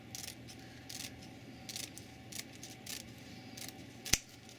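Scissors cut wire mesh for a twig wreath, giving a series of quiet, evenly spaced snips about every half second, then one sharper metallic click near the end against a faint background hum.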